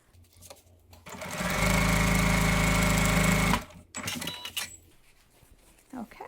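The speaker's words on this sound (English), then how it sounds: "So I'm going to stitch right along that edge" A sewing machine hums loudly for about two seconds while stitching along the edge of a zipper pouch, preceded and followed by quieter handling noises and fabric shuffling.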